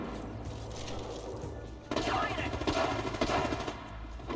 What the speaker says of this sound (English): They're fighting over there. Being shot at.